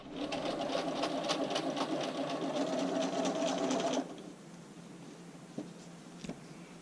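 Sewing machine running a straight topstitch on bra cup fabric, a fast close rhythmic whir for about four seconds, then stopping, followed by a few faint handling clicks and a single spoken word.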